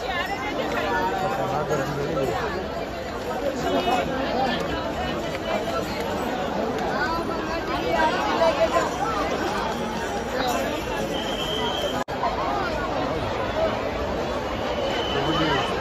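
A dense crowd chatters at the Ganga Aarti on Har Ki Pauri ghat in Haridwar, with many overlapping voices forming a steady, loud babble throughout.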